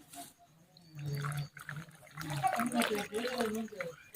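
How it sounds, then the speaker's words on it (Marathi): Water is poured into a pan of soaked bhagar (barnyard millet) and peanuts, a soft splashing trickle that builds over a few seconds while someone talks. "आता त्याच्यात आपण पाणी ऍड करू"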